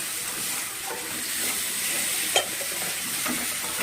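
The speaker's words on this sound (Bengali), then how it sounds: "আলুগুলো গ্রেভির সঙ্গে মাখিয়ে নিচ্ছে, একটু নাড়াচাড়া করে নিচ্ছে" Potatoes are stirred through a frying masala gravy, with a close, steady sizzling hiss and a few soft scraping stirs, including one sharper knock.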